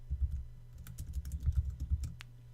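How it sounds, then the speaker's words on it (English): Rapid typing on a computer keyboard, with soft, close, irregular clicks in quick bursts and no voices. "Let's try typing in the name instead."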